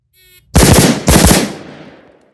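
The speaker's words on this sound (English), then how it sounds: "I started shooting late." Two loud, rapid bursts of handgun and carbine gunfire at an outdoor shooting range, each a fast string of sharp shots about half a second apart, ringing out with a decaying echo and no talking.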